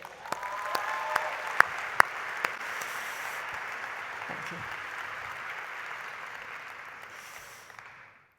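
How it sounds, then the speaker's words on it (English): An audience applauds changemakers at an entrepreneurship festival in Sharjah, with sustained, even clapping that fills the hall and fades out at the end, and a brief spoken thanks near the start. "Please join me in a round of applause for Sheraa's changemakers."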